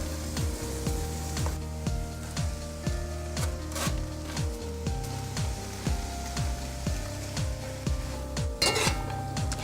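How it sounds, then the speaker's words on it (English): Tomatoes cooking in a pan, a steady sizzle under repeated clinks and scrapes of a utensil against the pan, close and moderately loud. "Get the cooking process started on the tomatoes so it gets nice and soft"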